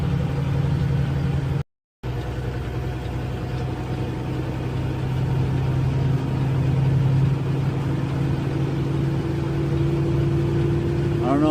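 A Kenworth T680 semi truck's engine idles in the Colorado Rockies in a steady, low drone with a constant hum throughout, briefly cut out once, while a voice talks over it.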